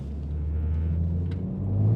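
A manual BMW M3 G80 on a public road pulls hard under acceleration, its engine a steady, loud low rumble with a rising drone that swells toward the end, heard from inside the cabin.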